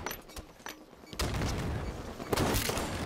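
Assault rifle fire in a Halo match on Hang 'Em High: sparse shots early, then a loud sustained burst of gunfire from just past a second, with another heavy volley near the end.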